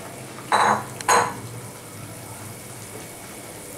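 Pieces of Bhagon fish drop into a simmering Bengali-style curry with two quick wet splashes close together. A low bubbling simmer carries on quietly after them.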